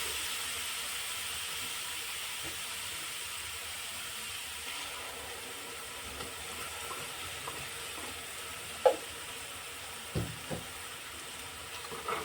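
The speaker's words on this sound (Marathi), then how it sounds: "फुल गॅसवरती पूर्ण चांगलं फ्राय करून घेतलेलं आहे" Masala for dal makhani fries on a full gas flame, giving a steady, soft, close sizzle with a few brief knocks from a stirring utensil near the end.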